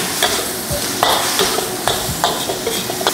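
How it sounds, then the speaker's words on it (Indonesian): Yakisoba fried noodles being stirred in a pan, loud repeated scraping strokes of a utensil roughly every half second over a low background sizzle. "Kita aduk sampai rata."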